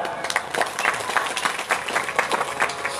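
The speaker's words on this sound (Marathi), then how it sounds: "रावणासाठी एकदा टाळ्या वाजल्या" Audience applause at a spoken religious gathering on the Ramcharitmanas, a dense crowd of hand claps rippling steadily throughout, loud and close with no speech over it.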